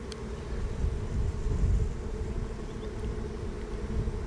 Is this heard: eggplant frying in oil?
no